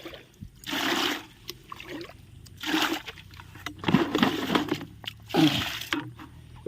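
Water from a jug splashes and trickles onto plants in several short bursts, pouring and stopping, fairly close with a faint background hum.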